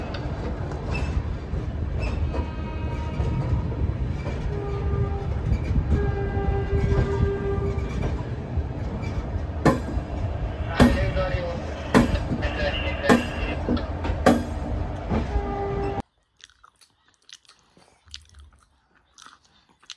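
A train pulling out of Tata station, heard from inside the carriage as a continuous rumble with rhythmic clacks of wheels over rail joints. It cuts off abruptly near the end.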